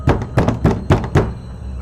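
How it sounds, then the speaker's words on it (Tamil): Someone knocks on a house door, a series of five loud, hollow thuds at a steady pace, close by and with no voice over them. "அந்த உருவம் இப்போ ராணி காகத்துடைய வீட்டுல கதவு தட்டுச்சு"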